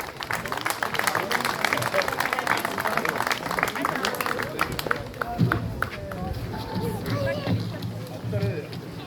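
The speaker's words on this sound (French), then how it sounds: "On peut l'applaudir encore une fois," An audience applauds at a koi show award ceremony in France, steady crowd clapping with cheers and murmuring for several seconds before it fades and a voice speaks over lingering claps.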